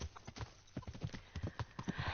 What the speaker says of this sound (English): come on, mount your horsey